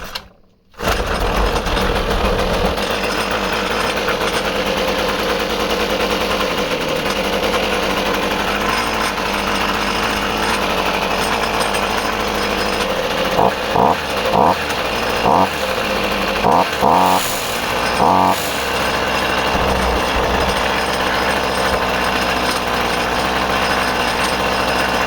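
Toro 25.4cc two-stroke engine starting after a carburetor replacement, firing up abruptly then running with a loud, steady buzzing drone, briefly blipping the throttle midway before settling back to a constant run.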